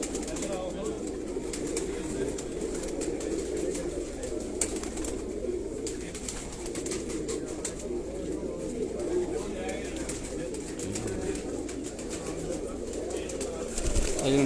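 Batera and Kasuri pigeons coo steadily in a low, continuous murmur at a pigeon loft in Sialkot, with people talking over them throughout.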